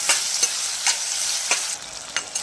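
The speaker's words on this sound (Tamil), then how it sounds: "சேர்த்து நல்லா வதக்கிக்கலாம்." Tomatoes and onions with rock salt are sautéed in a pan for mushroom thokku, a soft continuous sizzle punctuated by regular sharp scrapes of the stirring spoon, close and with no talking.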